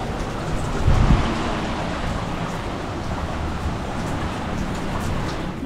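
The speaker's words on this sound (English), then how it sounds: "Just about to leave and it's raining again." Rain falls steadily at a Cancun resort, a dense, even hiss of drops on surfaces with a brief heavier thump near the start, continuing without voices.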